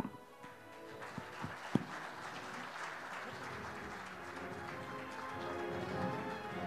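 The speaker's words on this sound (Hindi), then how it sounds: "जोरदार तालियां हो जाए" An audience at a political gathering applauds, a full, sustained clapping that builds and holds, with a few sharp knocks near the start.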